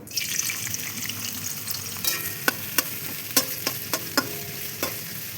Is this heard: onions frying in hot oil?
yes